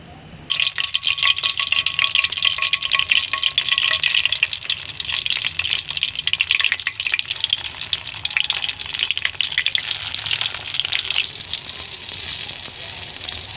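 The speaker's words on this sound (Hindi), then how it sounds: "इसे अच्छी तरह हम घी में फ्राई करेंगे" Stuffed eggplants, filled with a potato masala stuffing, sizzle steadily in hot ghee in a pan, a close, continuous crackling fry that runs unbroken and brightens slightly near the end.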